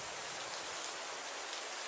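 Heavy rain pouring down in a steady, dense hiss, unbroken and even throughout, with no voices.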